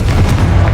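Spell blast from Confringo in Hogwarts Legacy, a deep booming explosion that rumbles loudly and continuously through a short burst of combat, heavy low thumps with no voices.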